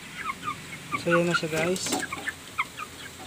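Backyard chickens cluck and chirp in a steady chorus while being fed banana stalk core, with someone talking briefly in the middle.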